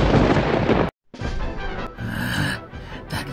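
Thunderclap and flash attack effect from a Demon Slayer parody: a loud roaring rumble cuts to sudden silence, then a crackling, booming burst follows, with no talk.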